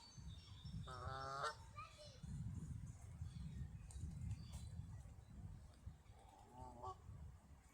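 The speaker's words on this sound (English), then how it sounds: "Wonder what that goose is honking for." A goose on a pond shared with coots gives two short bursts of honking, one early and one near the end. The calls are moderately distant over a low background rumble, with faint voices nearby.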